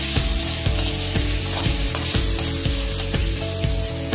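Ground coriander, cumin and a spoonful of sugar fry in a pan, sizzling steadily while a spoon scrapes and stirs in a regular rhythm, close and clear with no voices.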